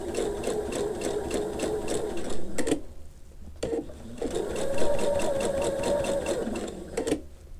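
A sewing machine stitches curved quilt pieces for a Drunkard's Path block, running in quick, even whirring bursts with a short pause midway while the fabric is shifted, close and moderately loud.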